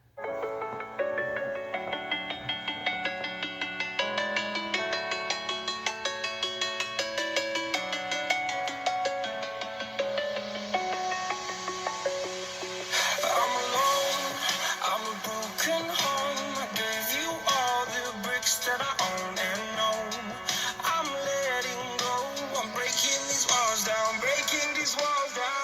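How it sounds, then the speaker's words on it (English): Royalty-free music playing at full volume through iPad Mini 6 speakers, a steady rhythmic melody with a bright, fuller section partway through, continuous and fairly loud with no talking. "So speakers are up all the way as it'll get. We are at the 11-second mark of this video of royalty-free music here on YouTube."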